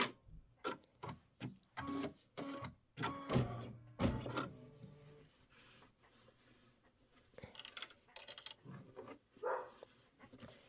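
A home embroidery sewing machine stitching a Kimberbell Hello Sunshine quilt block, rhythmic mechanical chattering in short bursts with pauses and whirring movements between them, fairly close but moderate in level.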